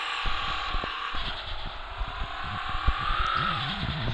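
A car engine revs and accelerates nearby, its steady drone climbing in pitch toward the end, with faint knocks and rumbles underneath.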